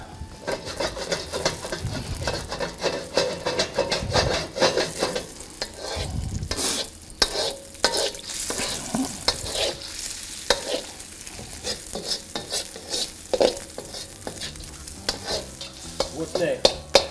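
Scrambled egg fries in an oiled pan while a utensil stirs and scrapes through it, a steady sizzle under repeated close scraping and clacking strokes, with no talking.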